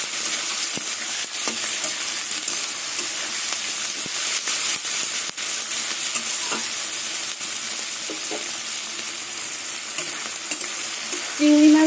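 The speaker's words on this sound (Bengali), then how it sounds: "এবার চিংড়ি মাছ, পেঁয়াজ, কাঁচা লঙ্কা সব একসাথে ভাজবো।" Shrimp, onion and green chili fry together in a pan, a loud continuous sizzle with occasional clicks of stirring running unbroken, no voices.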